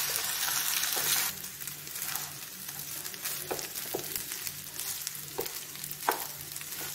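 Rice frying in a pan with garlic and tomato gives a steady close sizzle, with a louder hiss at the start and occasional scraping stirs throughout.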